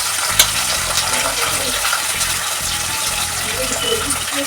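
Onion, green chilli and garlic frying in a pan, a steady broadband sizzle holding level throughout with faint stirring scrapes underneath and no talk.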